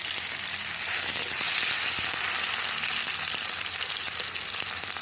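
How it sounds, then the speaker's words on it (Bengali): Nigella seeds and chopped tomato hiss loudly in hot oil, a dense and continuous close-up sizzle that holds at an even level from start to finish, with faint crackles scattered through it. "আমি এই তেলের মধ্যে কালো জিরে ফোড়ন দিয়ে দিচ্ছি কেটে রাখা একটা টমেটো দিয়ে দিচ্ছি"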